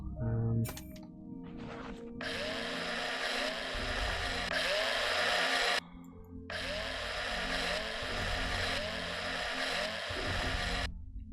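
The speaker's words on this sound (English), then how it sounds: "Oh, drill." Mining drill in the space survival game Breathedge, a loud continuous whirring grind running in two long bursts separated by a brief pause, with low background hum throughout.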